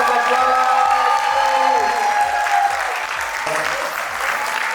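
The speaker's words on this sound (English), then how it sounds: "Can we have some applause?" Wedding guests applauding after the couple is pronounced married, a full, steady round of clapping from a crowd with a few faint cheers, gradually softening toward the end.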